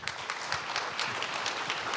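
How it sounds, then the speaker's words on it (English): Audience applause closes a business summit panel interview, steady dense clapping from a crowd filling the whole stretch at an even, moderate level. "A round of applause."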